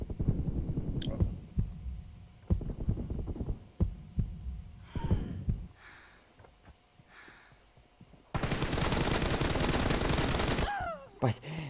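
Gunfire from the mobile shooter PUBG Mobile: scattered sharp single shots and short bursts, then a long dense stretch of rapid automatic fire near the end, loud and close.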